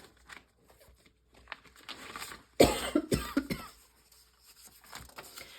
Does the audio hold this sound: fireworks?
no